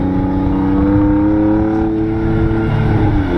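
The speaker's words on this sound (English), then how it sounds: "First we have the engine hum." Steady drone of a car engine at idle or light revs, part of a drifting car sound set, a continuous near hum with slight pitch shifts and no speech.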